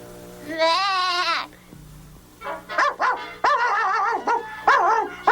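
A cute little dog gives a drawn-out, whining yelp, then a series of shorter wavering barks and yelps, close and fairly loud with no talking.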